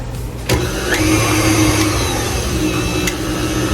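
An electric mixer runs at low speed through cake batter with flour for a pink velvet coconut layer cake, a loud steady motor whir with a few light knocks against the bowl.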